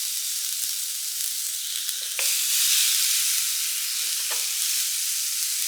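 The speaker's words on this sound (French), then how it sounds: "Lorsque le grill est chaud, je viens y disposer mes tranches de courgettes." Zucchini slices sizzle on a hot grill brushed with olive oil, a steady, close hiss throughout with a couple of soft clicks and a slight swell in loudness midway.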